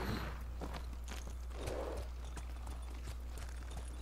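Horse hooves clip-clop at a steady walking pace in the Ghost of Tsushima video game, a continuous rhythmic series of soft thuds over a constant background hum.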